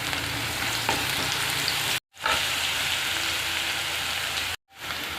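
Onion frying in a pan with garlic and cumin, a dense steady sizzle that is close and continuous, broken by two brief near-silent gaps.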